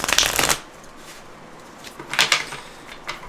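Tarot cards are shuffled in two short crisp bursts of riffling, one at the start and another a moment later, close and fairly loud against a quiet room with no talking.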